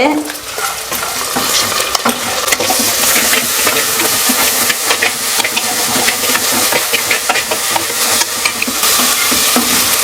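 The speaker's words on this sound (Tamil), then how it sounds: "மசாலாவில் ஒரு மூணு காஞ்ச மிளகா தனியாக கொஞ்சம் போட்டிருக்கிறேன் இதை வந்து வறுத்துக்கலாம்" Dry red chillies, three of them, fry in a pan of masala for a chicken gravy, giving a steady, close sizzle with crackle and stirring scrapes throughout, with no talking.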